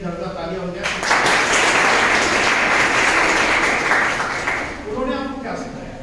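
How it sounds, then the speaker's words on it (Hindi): Loud applause from a crowd fills most of the stretch, starting after a brief voice and fading as speech returns near the end. "एक जोरदार तालियां हो जाए"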